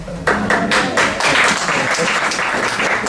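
Audience applause that starts abruptly and holds steady and fairly loud for a few seconds, an even patter of many hands with a faint voice underneath.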